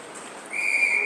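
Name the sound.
referee whistle at ice hockey game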